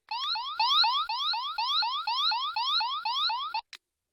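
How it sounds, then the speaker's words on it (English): A Power Rangers Ninja Storm Wind Morpher toy sounds its electronic alarm, a loud, shrill tone that rises in quick repeating sweeps about twice a second for over three seconds before stopping with a click. "when you press the alarm button, which is this button right here where my thumb is"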